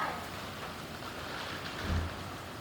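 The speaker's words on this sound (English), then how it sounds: "That's how much rain is pouring right now." Heavy rain pours down during a storm in a steady, wide wash of noise that swells slightly near the end, fairly distant and subdued, with no voices.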